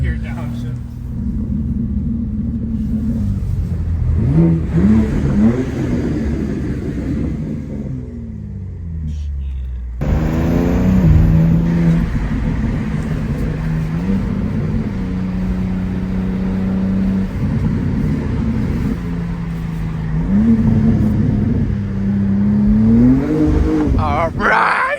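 A straight-piped BMW, among an M2, X3 M Competition and manual 335i on quiet backroads, drops to first gear and accelerates hard, with loud rising engine pitch sweeps, a brief gap, then more revving and rumbling while people talk excitedly.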